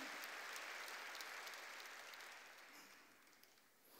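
A church congregation claps together during a Sunday worship service, a steady broadband patter that stays fairly even before thinning slightly toward the end, with no voices over it.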